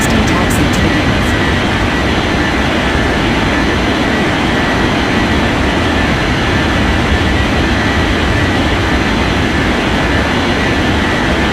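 Aircraft engine roar during takeoff in an air traffic control game, a loud, steady broadband rumble held throughout with no breaks, a faint radio-style voice briefly audible at the start.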